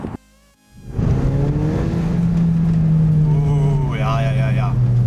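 A Toyota Celica GT-S with a 2ZZ engine starts and settles into a loud, steady idle close by, its drone holding for several seconds with a brief rise in revs near the end.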